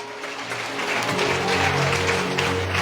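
Applause fills a church service, a congregation clapping that starts lighter and builds into a dense, sustained round of claps with some faint voices mixed in.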